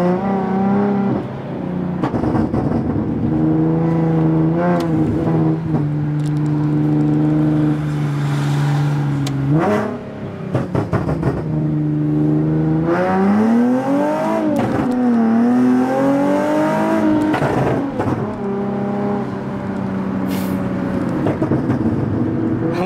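A Nissan 370Z engine revs loud and near in repeated rising and falling sweeps, with sharp short cracks between throttle blips, the note dipping and climbing again over a long stretch with no talk.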